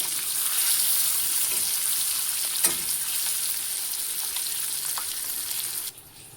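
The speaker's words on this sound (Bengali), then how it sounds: "এইভাবে আমি ডিমগুলো ফ্রাই করব" Eggs frying in a pan, a continuous bright sizzle with stirring scrapes and a sharp utensil knock partway through, cutting off near the end.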